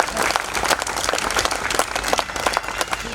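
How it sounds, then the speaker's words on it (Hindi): Loud, sustained applause and clapping from an audience fills the room at the close of a 20-day workshop stage show based on Rashmirathi in Dhanbad, steady throughout with no break. "इसके लिए जोरदार तालियां।"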